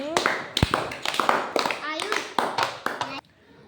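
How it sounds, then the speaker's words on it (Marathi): Young children in a classroom clapping for a classmate, a run of quick uneven hand claps close by, with a teacher's voice over them before they stop. "टाळ्या वाजवा ऋषीसाठी"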